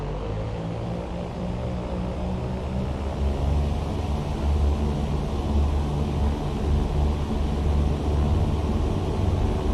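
A small plane rolls down a short runway for takeoff in the X-Plane flight simulator, its steady propeller engine drone loud and close, gradually building in power with no talk.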